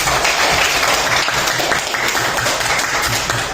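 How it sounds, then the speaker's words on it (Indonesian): Children in a classroom clap together loudly and fairly close by, a dense patter of hands running steadily for several seconds with no speech over it. "Oke, tepuk tangan."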